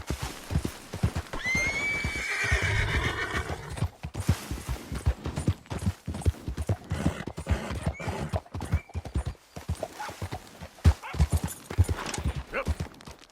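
A horse neighs and its hooves clip-clop in Red Dead Redemption 2, a long whinny followed by steady galloping beats, with a voice briefly talking over it.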